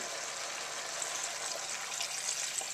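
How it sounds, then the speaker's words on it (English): Beef broth pours into a pot of pumpkin potage, a continuous soft splashing gush that stays steady and close for the whole stretch. "we'll pour in about 2 cups of beef broth"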